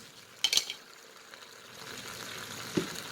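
Onions and carrots stirred in a pot with a utensil, giving a couple of sharp scraping clinks near the start and a later knock, over a faint background sizzle in a home kitchen.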